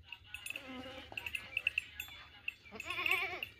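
A goat bleats several times in a row, faint and fairly close, with people talking over it.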